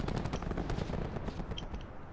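Peacekeeper gun in Black Ops 4 firing rapid automatic bursts, dense quick shots hitting enemies with a metallic clang, fairly faint and continuous with no talking.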